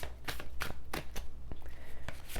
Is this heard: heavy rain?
no